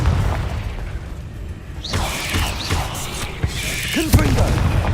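The Confringo fire spell in Hogwarts Legacy goes off as a series of booming blasts and bursts in combat, with sharp pops and whooshing crashes layered over a rumbling backdrop.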